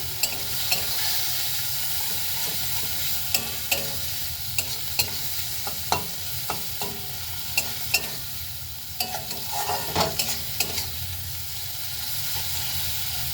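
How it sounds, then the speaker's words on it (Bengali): Prawns sauté with spices in a pan, a continuous hissing sizzle broken by repeated scraping stir strokes at an uneven rhythm, close and with no talk. "এই মশলার সঙ্গে কষিয়ে নেব, আলাদা করে আর ভাজবো না"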